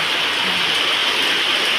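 Steady rushing rain, a dense unbroken hiss of water heard close and fairly loud, with no voices.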